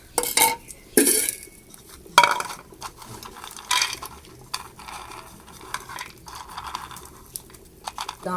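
Metal spoon clinking and scraping against a pot while slowly stirring almond kheer with dried dates over low heat, a few louder clatters near the start among soft, intermittent stirring taps.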